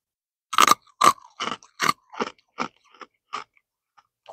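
Freeze-dried candy corn is crunched up close in about ten crisp, loud bites and chews that come quickly at first and then fade into softer, sparser crunches against near silence.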